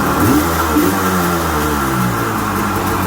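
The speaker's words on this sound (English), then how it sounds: "Revving for a second." A Kawasaki JS440 jet ski engine revs up loudly and holds a steady, throaty roar for a few seconds, close by with no talking.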